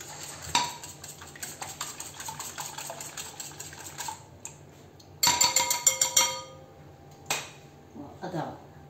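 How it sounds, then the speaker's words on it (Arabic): Eggs are whisked in a bowl for a potato, cheese and minced meat gratin, giving quick rhythmic clinking of utensil against the bowl in bursts with short pauses, loud and close. "اخفق قليلا هذا البيض"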